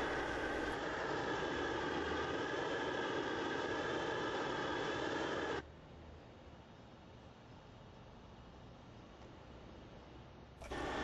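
A heat shrink sleeve closure on a pipe is heated with a torch, giving a loud, steady roaring hiss that drops abruptly to a quieter hiss midway, then surges back loud at the end.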